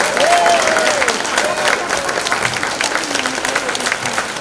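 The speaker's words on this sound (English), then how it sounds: "Let's give him a round of applause" An audience at a University of Guyana alumni gala in Washington applauds loudly and continuously from near and far, with a few scattered cheers and whistles rising over the clapping before it starts to thin out.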